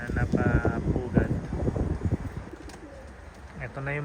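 Racing pigeons in a loft cooing in repeated soft, throaty phrases close by, with someone talking over them.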